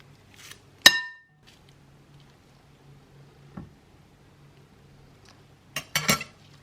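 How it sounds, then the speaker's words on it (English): A teaspoon of baking powder goes into a mixing bowl for banana bread. A single sharp clink of the spoon on the bowl comes first, then a quieter tap and a quick cluster of clinks near the end, with silence in between. "I'm now going to add 1 teaspoon of baking powder into the bowl"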